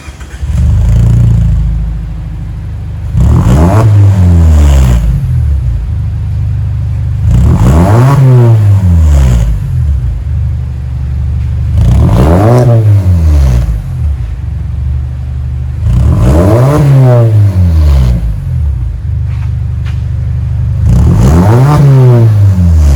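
A 2020 Mazda CX-3 Sport with a Magnaflow exhaust, resonator delete and 4-inch dual tips revs repeatedly, loud close engine bursts rising and falling about six times over a constant idle rumble.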